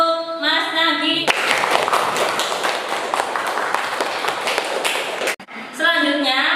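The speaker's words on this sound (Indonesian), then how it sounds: "Tepuk tangan untuk Mas Nagi" Classroom applause for a student after a presentation, a burst of many hands clapping for about four seconds, loud and close, bracketed by brief voices before and after.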